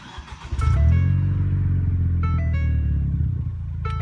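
Ford Fiesta ST engine starting with the catback unbolted for a downpipe dump exhaust: a quick crank, then a loud, raspy, rumbling idle close by with a couple of brief blips.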